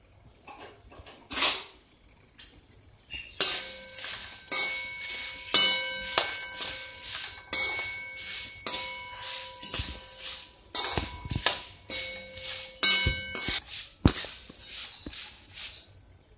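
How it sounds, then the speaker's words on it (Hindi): Puffed rice roasting in a pan, with repeated scraping and clinking of a spoon against the metal in irregular bursts, close and fairly loud. "दो कटोरी मुरमुरे भूंज लीजिए।"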